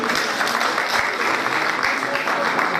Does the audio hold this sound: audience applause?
yes